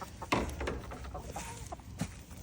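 Backyard chickens cluck softly in a garden, with a few short, quiet clucks and calls over low background noise.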